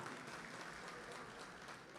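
Audience applause at a mushaira poetry gathering held for the Bihar Anjuman Jubail Chapter installation: steady, dense clapping heard fairly faintly and from a distance, holding evenly for about two seconds.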